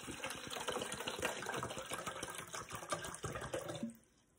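Bottled water poured into a container, a steady close gushing and filling sound that runs for a few seconds and then stops abruptly.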